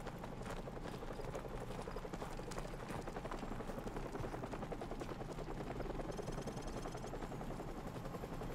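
Helicopter in the Call of Duty: Modern Warfare Remastered campaign, a steady loud rotor chop with rhythmic thumping throughout, mixed with dense game sound effects and a brief high tone near the end.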